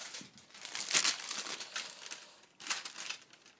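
Greaseproof paper being crinkled and laid out on a work surface, close and fairly quiet, with bursts of crackling handling noise separated by short lulls.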